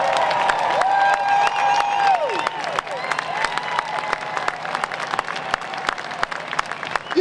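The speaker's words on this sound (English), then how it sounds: "let's give them a round of applause" A large crowd at Charlotte Motor Speedway claps and cheers continuously at stadium scale, with a loud public-address tone ringing over the noise.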